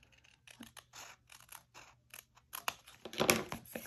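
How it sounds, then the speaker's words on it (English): Hand scissors snip repeatedly along the edge of a paper border during a papercraft workshop, a run of close, crisp cuts and rustles that grow busier and louder toward the end. "I just do it with my scissors."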